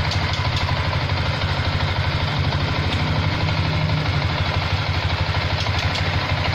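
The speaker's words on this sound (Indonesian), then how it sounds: "Saya matiin dulu mesinnya ya." A motorcycle engine idles steadily and close by, an even low mechanical chug with light clatter that runs the whole time, alone with no talk.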